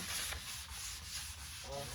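Steady abrasive rasping of sandpaper rubbed back and forth over a whiskey barrel's wood, removing dirt, close and continuous with a few strokes audible, no voices.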